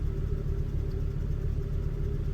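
Car engine running in a workshop bay during an evaporative-system lab, a low, steady rumble with a faint whine throughout and the revs wavering slightly.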